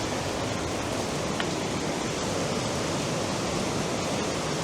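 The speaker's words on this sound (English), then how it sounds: "Look at this, just raining down" Rainwater pours steadily into a bucket during a heavy downpour, a dense, continuous rushing hiss that stays loud and unbroken throughout, with no voices.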